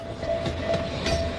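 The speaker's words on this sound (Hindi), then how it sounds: "मजेदार बात है ना, मिनी ट्रेन भी चलती है इस पार्क में।" A cartoon mini train runs through a park, giving a steady rolling clatter with rhythmic wheel bursts over a thin sustained tone. It is moderately loud and heard alone, with no talking.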